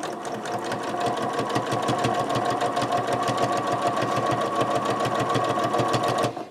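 Sewing machine stitching a fabric wedge for a microwaveable bowl potholder, a fast even rattle of needle strokes running steadily for about six seconds at close range before stopping.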